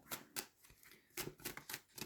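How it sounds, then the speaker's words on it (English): Cards being shuffled by hand in a few quick riffling bursts, soft and close, with brief gaps between. "There you go, messy shuffle."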